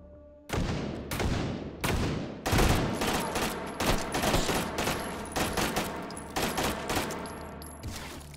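Rapid bursts of gunfire from a VR shooter game, dense volleys and single cracks following one another for several seconds at close range, with no talking over them.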